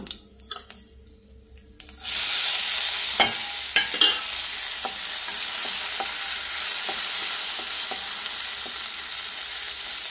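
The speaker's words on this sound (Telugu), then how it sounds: "అలా ఉడికిన దాన్ని ఇలా పోపు చేసుకొని" Spices and asafoetida crackle into hot oil as a tempering for a raw mango and spinach dal. A loud, steady sizzle bursts in after a quiet start and keeps hissing, with scattered pops and spatters throughout.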